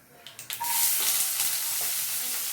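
Fennel seeds and chopped onion sizzle and crackle in hot oil in a pan, a steady close frying hiss after a few quick pops at the start.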